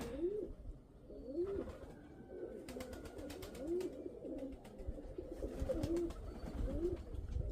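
A red domestic pigeon cooing close by, soft throaty coos repeating in a steady rolling rhythm over low background noise.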